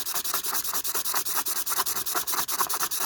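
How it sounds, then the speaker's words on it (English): Rainbow opal stone is sanded by hand with sandpaper, a rapid rhythmic back-and-forth rasping of even strokes, close and fairly loud with no talk. "So it could be a good candidate for the sandpaper."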